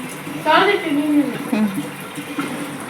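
Water runs steadily into containers beneath a voice, the flow a soft, constant rush close by.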